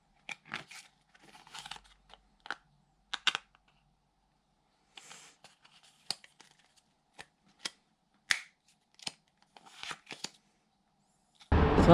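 Playing cards are handled and shuffled during card trick practice, making a series of close, quiet riffles, snaps and flicks in irregular bursts, with no speech.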